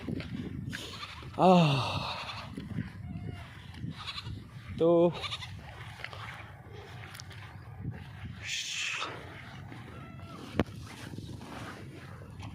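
Goats bleat nearby in two loud, wavering calls, with fainter animal cries and a brief word of speech amid outdoor background noise.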